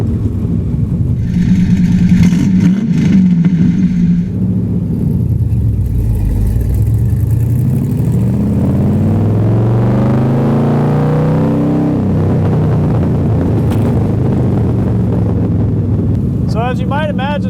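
An old Corvette engine fires up and revs, the throttle rising and falling in sweeping pulls over a constant rumble, with wind buffeting and people talking over the car.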